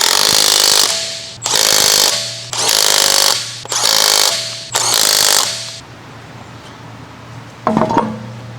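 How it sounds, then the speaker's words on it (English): A large electric impact wrench with a 19mm short socket snugs the lug bolts on a 2015-2018 Ford Fusion wheel. It fires five loud, close rattling bursts of about a second each, then goes quiet apart from one short clunk. "Using the large electric impact wrench, with the large 19mm short socket,"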